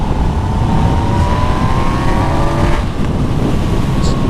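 A Yamaha MT-09 motorcycle engine accelerates on a road, its pitch rising steadily beneath heavy wind roar, loud and close throughout.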